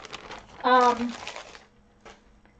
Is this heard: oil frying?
no